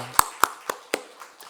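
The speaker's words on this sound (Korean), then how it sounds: "하나님께 영광의 박수 올립니다" Hands clap in a church Sunday worship service, giving glory to God: five sharp, evenly spaced claps, close and fairly loud at first, then fading quickly away.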